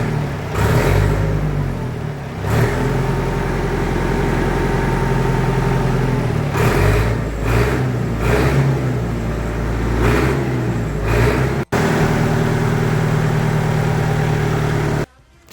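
A Case 674 tractor fitted with a new exhaust runs loud and close, its engine idling with a deep rumble and revving up several times in bursts before settling back, with no speech over it.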